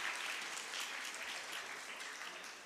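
Brief, even applause from the audience at a BRICS youth entrepreneurship event, soft and continuous, fading slightly as it goes.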